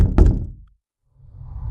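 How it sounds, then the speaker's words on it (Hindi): Heavy thuds on a door, as in a horror tale: a loud cluster of knocks at the start, then a short silence and a low rumbling thump building near the end. "दरवाजे पर लगातार ठक ठक की आवाज सुनाई दी"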